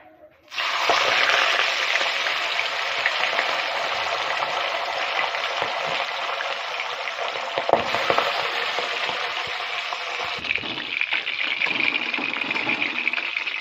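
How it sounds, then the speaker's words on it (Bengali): Pabda fish dropped into hot oil, a sudden loud burst of sizzling and spluttering that continues as a dense, steady crackle close by, with brief pops and a slight easing near the end. "এবার এক এক করে মাছ ছেড়ে দেব। পাবদা মাছ ভাজার সময় খুব ফোটে"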